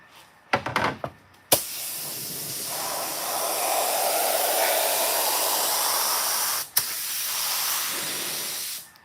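Continuous airbrush or spray-gun hiss painting the skirts of a 1960 El Camino-style Elco, metal-flake custom paint, steady for several seconds with brief interruptions and small knocks near the start.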